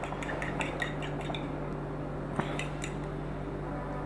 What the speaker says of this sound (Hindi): उसके बाद इसमें जाएगा 1 egg जिसको कि हम अच्छी तरह से फेंट लेंगे।